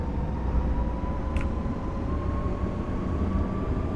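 A London Underground 1992 Stock train on the Central Line, simulated in Open.BVE, runs with a continuous heavy rumble and a thin, steady motor whine, loud and unbroken with no talking.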